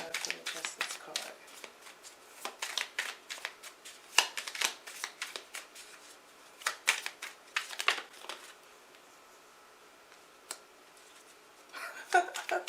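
Tarot cards being shuffled, a run of quick riffling and slapping bursts with short pauses between them, close and fairly quiet.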